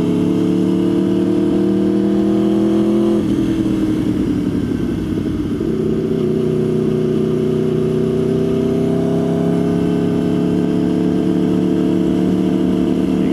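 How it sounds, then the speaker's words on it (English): An Aprilia Tuono V4R is ridden through a small town, its loud exhaust droning steadily up close, the tone dropping at a gear change and then climbing again as the bike accelerates, with no talking over it. "I don't know if you guys can hear the exhaust."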